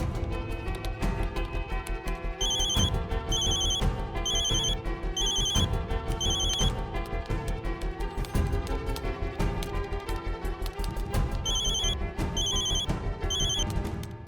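Telephone ringing in repeated bursts of trilling bell tones over loud dramatic background music, heard throughout against the dense score.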